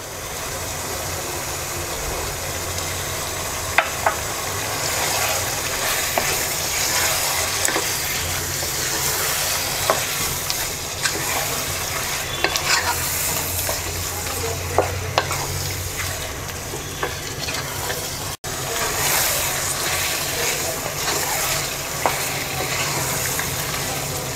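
Beef with sour yogurt sizzles and frying in a pot for tehari while a spoon stirs it, a steady close sizzle with scattered scraping clicks and no talking.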